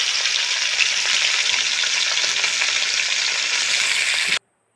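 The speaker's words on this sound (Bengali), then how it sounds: "তো প্রথমে মুড়োগুলো দিলাম, একটু এরকমভাবে সব মাছগুলোকে ভেজে নেব।" Hilsa fish heads frying in hot oil in a pan, a loud, steady, dense sizzle holding evenly for over four seconds before cutting off abruptly.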